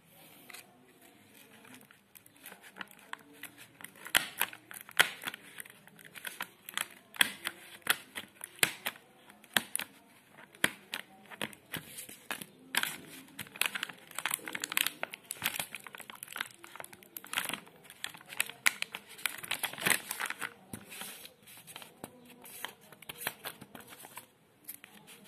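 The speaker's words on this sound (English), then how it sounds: "I cut the package" A knife cutting open the packaging of a budget soldering iron makes quiet, irregular crinkling and clicking, with bursts of rustling plastic and cardboard close by.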